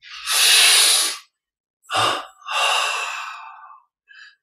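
Deep, audible breaths during a guided neck exercise in a meditation and energy-recharge session: a long, strong inhale, a short sharp breath, then a long sighing exhale, close and loud, with no words spoken.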